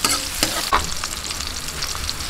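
Pork belly (liempo) frying with softened onions in a pan for Filipino adobong puti, a steady loud close sizzle with small crackles and pops throughout, no talking.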